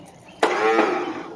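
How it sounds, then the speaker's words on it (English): A Briggs & Stratton 11hp engine on a Murray lawn mower fails to turn over, giving a sudden close click and then a short, strained whirring hum that fades without catching. "So it's not turning the engine over."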